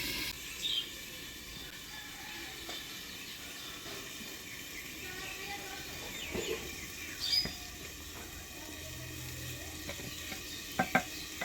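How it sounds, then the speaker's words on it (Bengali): Eggplant pieces being stirred with turmeric and salt in a pan, giving a faint steady sizzle with soft scraping and a few light clinks of utensil against the pan. "হলুদ লবণ দিয়ে নাড়াচাড়া করে নিলাম।"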